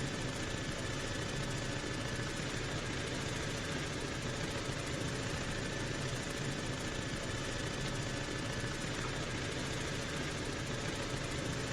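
Engine of the Juno helicopter hovering in the ArmA video game, a continuous steady drone with a constant rotor whine and hum, filling the whole clip with no voices.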